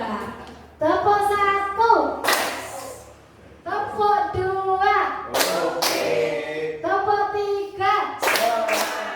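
Classroom clapping chant, sharp rhythmic hand claps in short sets answering spoken call-and-response lines from a group of children and an adult, claps standing out as loud percussive hits between voices.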